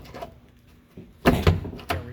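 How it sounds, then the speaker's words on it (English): A fiberglass car door opens with a couple of quick, hollow clunks and a short rattle, close by and fairly loud after a brief quiet moment. "I'm going to open the door here."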